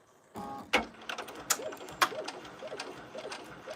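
An embroidery machine stitches eyes onto a fleece scarf appliqué with rapid, faint mechanical ticking and whirring, punctuated by a few sharp clicks as jump stitches are trimmed.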